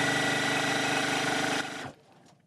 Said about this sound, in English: I'm speed sewing.